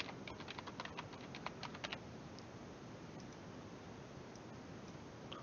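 Someone types on a computer keyboard during a live evening stream, with quick clustered key clicks at first, then sparser taps over steady background hiss, and no talking.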